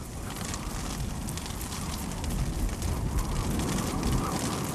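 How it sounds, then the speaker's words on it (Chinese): Hail falling on a high glacial plateau, a dense continuous crackling patter of ice striking the surface, steady and moderately loud with a slight swell midway. "冰雹从天而降"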